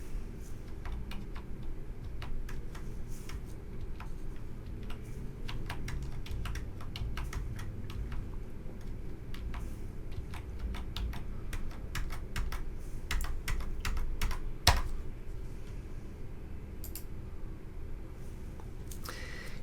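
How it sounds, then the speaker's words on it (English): An account number is typed on a computer keyboard in steady bursts of close, crisp key clicks, with brief pauses and one sharper keystroke, and no talking. "Enter the first account number either by typing it directly in the field"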